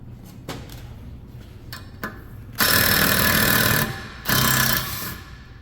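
A power tool works a Torx set screw out of a Volvo S60 rear brake rotor: a few faint clicks and knocks, then two short, loud whirring bursts close up.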